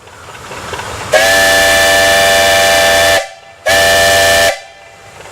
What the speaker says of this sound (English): And this is the whistle that went on for come to work.